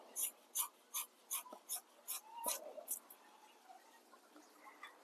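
Woven fiberglass mat being cut to size for a 1300-gallon plywood aquarium build: a steady run of about eight crisp, close snipping crunches at an even rhythm, then fainter rustling.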